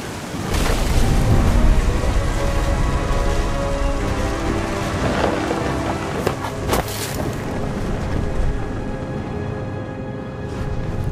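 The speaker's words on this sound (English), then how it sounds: "The thunder sounded much too close and full of angry power." Heavy rain pours steadily in a thunderstorm in What Remains of Edith Finch, with close thunder cracks and rumbles breaking through the constant downpour; no one speaks.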